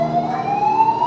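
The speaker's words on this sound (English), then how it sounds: "and then the sirens begin." A single loud ambulance siren wails close by, its tone sliding steadily upward without pause.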